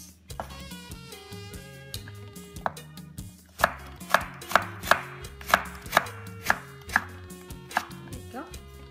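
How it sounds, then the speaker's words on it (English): Cabbage is shredded finely with a knife for pickles, with about eight crisp, evenly spaced blade strikes on a cutting board ringing out close by over soft background music. "And then I'm gonna shred it just like this"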